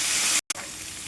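Onions frying with dried shrimp in a pan for gongura curry, making a steady bright sizzle broken by a short gap of silence, then continuing.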